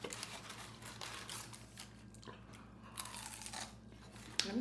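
Close, crisp crunching as someone chews crunchy chicken wings, repeated bites and mastication crackling steadily, with no talking.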